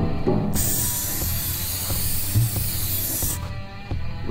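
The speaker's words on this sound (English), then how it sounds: "And then spray some adhesive remover." Adhesive remover sprays from an aerosol can in one continuous hiss of about three seconds during car hood seal work, with faint handling noises before and after.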